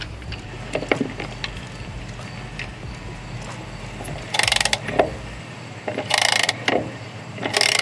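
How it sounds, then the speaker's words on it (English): A cheap wrench bought from Wish rattles loosely at its handle, giving a few short bursts of metallic clattering spaced a second or so apart over a steady low background, with no talking. "it rattles a little bit, but I think that's more just this handle here that's rattling than anything."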